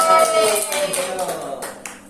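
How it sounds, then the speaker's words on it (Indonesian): Audience applause for a student presenter at a micro-teaching session in a classroom, a burst of clapping that starts loud and thins out over about two seconds, with voices mixed in. "boleh kasih tepuk tangan untuk adik Isa"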